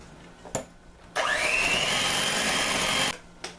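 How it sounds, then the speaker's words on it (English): Electric hand mixer whirring through no-bake lemonade cheesecake filling, starting abruptly with a rising pitch, then a steady loud close drone for about two seconds before cutting off, with a couple of clunks around it. "now I'm just going to use my mixer to blend this together"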